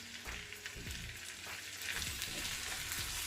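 Curry paste and curry leaves fry in hot oil for a stuffed green chili and brinjal curry, a dense, rain-like crackling sizzle with scattered pops, steady and close, fairly quiet.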